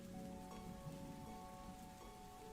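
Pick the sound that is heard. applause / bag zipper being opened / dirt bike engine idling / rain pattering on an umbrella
rain pattering on an umbrella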